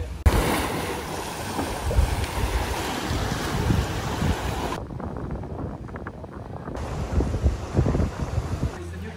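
Surf breaks steadily on Phra Nang beach at Railay, Krabi, framed by limestone karsts, with rolling wave wash and gusts of wind buffeting the microphone throughout.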